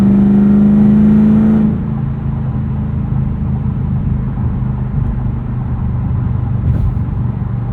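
A loud 2007 Ford Mustang Shelby GT S197 with a five-speed manual roars at high revs briefly, then drops to a deep, steady rumbling drone as it cruises, heard close from inside the car.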